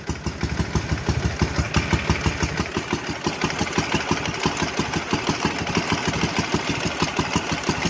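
A Ural motorcycle engine running after sitting for 11 years, with carburetors still unadjusted: a steady, close, throbbing idle with a quick, even pulse.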